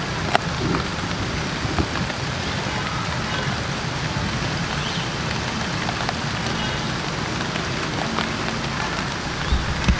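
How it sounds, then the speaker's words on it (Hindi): Rain falls on a rooftop garden where eggplants grow in buckets, a dense, steady patter with occasional louder drops, continuous and fairly close. "बारिश भी शुरू हो गई है"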